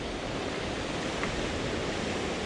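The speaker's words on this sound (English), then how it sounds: "cool waterfall here." Continuous rushing water roars steadily from a waterfall on Enloe Creek in the Great Smoky Mountains, a dense, unbroken wash of noise throughout.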